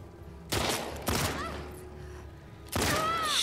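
Gunfire in The Last of Us Part II game, three sharp bursts about a half second to two seconds apart, loud and close, the last one trailing into ringing tones.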